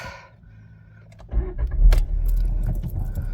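A 2013 Volkswagen Golf VII 1.4 TSI 122 hp engine cranks and catches at about 1.3 seconds, then settles into a steady, fairly loud idle close by, after a faint rattle of keys.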